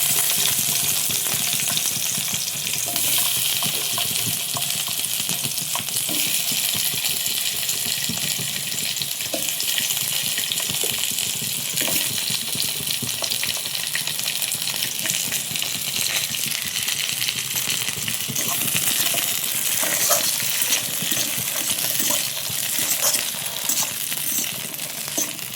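Capsicum fries in ghee with a dense, even sizzle that holds loud and close for the whole stretch, broken by faint clinks and stirring scrapes; nobody speaks.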